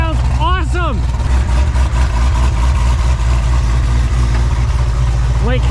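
A Ford F450 truck engine rumbles steadily at idle, deep and loud, heard close by. A person talks excitedly over it at the start and again at the end.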